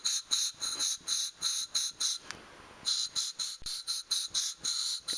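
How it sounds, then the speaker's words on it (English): Compressed air spraying inside an opened hard drive, a series of short sharp hissing bursts in quick rhythm, close and loud, with a brief pause midway and no talking. "Always use compressed air."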